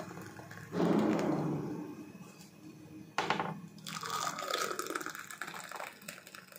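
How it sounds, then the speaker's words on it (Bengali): Milk sago is poured into a cup in two gurgling, liquid bursts, the second spattering longer, heard up close with no speech. "তো দেখো কাপে ঢেলে নিলাম"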